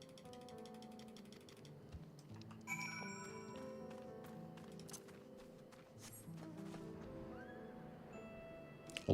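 A horse in the game Final Fantasy XIV lets out a long whinny, with clip-clop hooves and faint mechanical clicks over steady game music, fairly clear and near.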